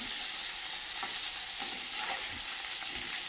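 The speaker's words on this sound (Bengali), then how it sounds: "জাওলা মাছগুলো বেশি ভাজবো না আর কমও ভাজবো না মিডিয়াম ভেজে নেব" Jiol fish, freshly caught stinging catfish, fry at medium heat in a pan. A steady, soft sizzle carries on alone with faint stirring, and no one speaks.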